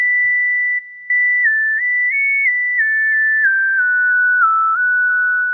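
A whistle-like hip hop lead preset on a microKORG synthesizer plays a clean, pure-toned melodic line alone, stepping gradually downward with one short gap near the start.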